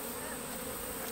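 A swarm of honey bees buzzes during a honey harvest, a dense continuous drone of many insects close by with no voices.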